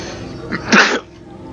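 A single person sneezes once, close and sharp, with a short breathy intake before the burst and quiet room noise afterward.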